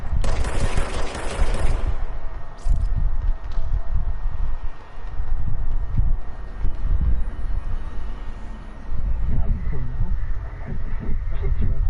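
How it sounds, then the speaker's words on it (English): Gunfire in the video game Control, sustained bursts of rapid shots that keep going throughout, loud and close, with a person talking over parts of it. "Who was that shooting?"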